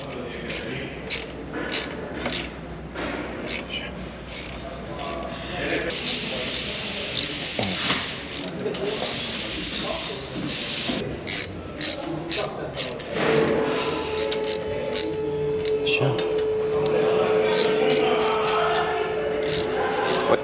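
A ratchet wrench clicks repeatedly while tightening engine guard bolts on a 2023 Honda XL750 Transalp motorcycle, crisp rapid bursts of pawl clicks close by, with a person speaking intermittently in between.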